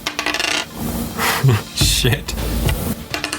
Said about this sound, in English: Oh god, I love the sound of those dice.